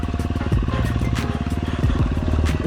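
Motorcycle engine fitted with a Tokyo Mods Vortex ECU, running loud and close with a rapid pulsing rhythm and shifting revs throughout.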